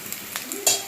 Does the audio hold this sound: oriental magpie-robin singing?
no